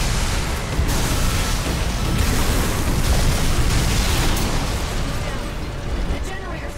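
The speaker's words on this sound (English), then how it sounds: "I do not know if that explosion will hurt you." Explosion in the mech combat game Armored Core VI, a dense roaring blast of broadband noise that holds loud for several seconds with rumbling low end and no talking.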